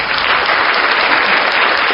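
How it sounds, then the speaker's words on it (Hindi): Loud, dense clapping from a seated audience at a public talk, an unbroken even burst of many hands applauding together for the whole stretch. "ताली बजाना पड़ेगा।"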